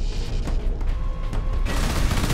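Turret gunfire in the Space Marine video game rattles as a dense, loud, continuous burst of shots that intensifies toward the end, with no talking over it.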